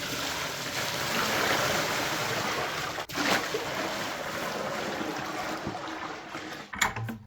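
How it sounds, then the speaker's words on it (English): Twenty gallons of water pour steadily into a goose's pool, making a continuous rushing splash that holds level for several seconds, broken by a brief knock partway through and a clatter near the end. "I'm putting 20 gallons in the pool because that raises the water level up"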